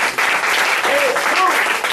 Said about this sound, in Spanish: Denle el aplauso a aquel que lo bendiga.